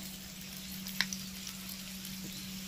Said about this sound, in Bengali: ওই তেলের মধ্যে দিয়ে দিচ্ছি পেঁয়াজ কুচি, তেলটা গরমই আছে।